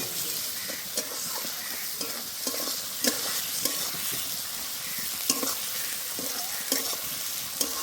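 Onions frying in a pan for a Bengali egg curry, with a continuous sizzle and repeated scraping stirs of a spoon at irregular intervals, close and alone.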